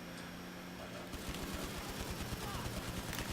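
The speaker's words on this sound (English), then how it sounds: "That's when I just bring out the full auto pistol and let him have it." Rapid full-auto pistol fire in GTA 5 Online crackles in a continuous stuttering burst after a brief lull, loud and dense over the game's background noise.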